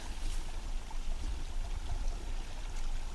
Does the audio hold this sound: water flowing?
yes